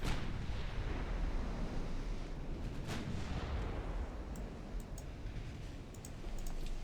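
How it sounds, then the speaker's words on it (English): Warship guns firing in the naval video game Ultimate Admiral Dreadnoughts, a continuous heavy rumble of distant salvos with a few sharper cracks, steady throughout and without voices. "My other guns are opening up as well now."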